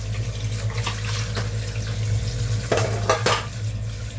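Fish and vegetables, lentils among them, are washed under a running kitchen tap, with steady water flow, a low hum and several clattering knocks of dishes or pans near the end, without any talk.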